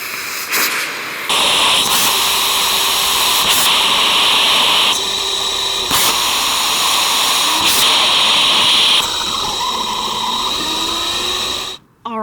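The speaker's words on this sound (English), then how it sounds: "The first bank went off perfectly. The second bank went off perfectly as well, right in time." Six model rockets on an RC JATO car fire in two banks, a loud continuous roaring hiss with sharp step changes as banks ignite and burn out, close by, fading and cutting off near the end.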